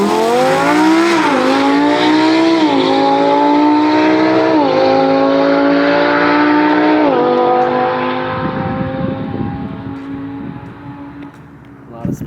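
A McLaren 765LT on a drag strip roars through hard, loud acceleration, its engine note climbing in rising sweeps broken by three or four quick gear shifts, then fading into the distance as the car pulls away, with a brief noise at the end.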